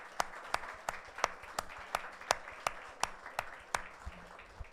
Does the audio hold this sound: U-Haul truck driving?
no